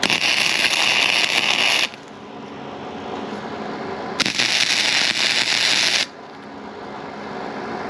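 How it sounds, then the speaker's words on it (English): Arc welding on a cracked cast iron Jeep exhaust manifold repair, a loud steady crackling hiss in two bursts of about two seconds each, with a low background hum in the pauses between them. "we're just going to put a little extra weld in, grind her down once more"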